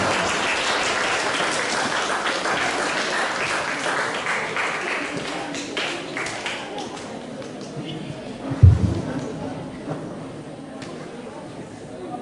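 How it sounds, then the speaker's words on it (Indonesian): An audience applauds an invited speaker at a seminar, with sustained clapping filling the room and slowly thinning out, and a brief thump near the end. "Silakan kita berikan aplaus."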